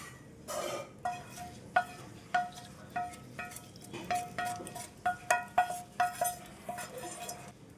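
Fried tempering is stirred into a mango and onion chutney in a pan with the stove off, producing a series of light metallic clinks and scrapes at an uneven rhythm, close and fairly quiet.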